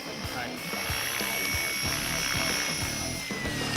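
A helicopter flies over the Big Cypress Preserve during an aerial survey, its rotor thumping in a fast steady beat under a constant whining engine drone, loud and close from inside the cabin.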